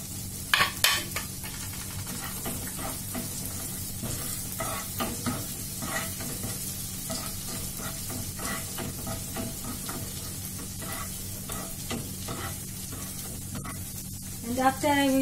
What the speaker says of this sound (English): And now I will put this garlic and ginger paste.